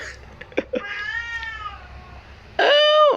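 A cat meows several times in short, close cries, then lets out a louder, longer meow at the end, with no one speaking.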